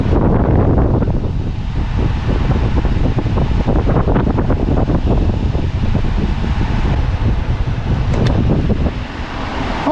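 An air conditioner's exhaust vent blows hot air out in a steady, loud whooshing rush, close to the microphone with gusty buffeting and no talking.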